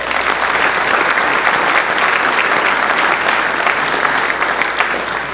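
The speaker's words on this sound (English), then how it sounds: "Please give them a round of applause as well." Loud, sustained applause from an outdoor ceremony crowd honoring high school ushers at a hometown hero banner event, steady dense clapping filling the whole stretch with no talking over it.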